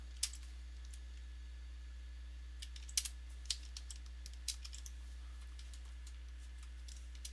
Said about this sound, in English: We're going to be typing that a lot.